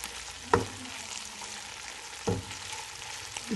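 Finely chopped garlic fries in a pan for sarson ka saag, giving a soft, steady sizzle at low volume, broken by two sharper stirring knocks about two seconds apart.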